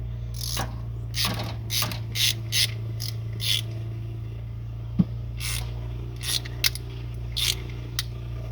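A ratchet wrench tightening a bolt on a 1986 Ford F250 clicks in short, repeated bursts of rapid ratcheting, close and fairly quiet over a low steady hum, with one sharp knock midway.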